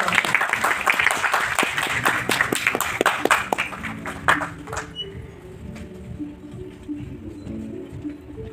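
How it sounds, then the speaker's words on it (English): Audience applause at a student space camp event in India, with distinct individual claps, fairly close, thinning out after about four seconds into quieter room noise and murmur. "Ladies and gentlemen, can we have a huge round of applause?"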